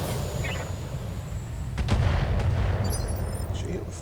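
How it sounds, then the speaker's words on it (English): A mech in the BattleTech video game fires a volley of missiles, making rumbling booms and whooshing launches that overlap, with a louder burst midway, heard fairly close. "Just throw a few missiles."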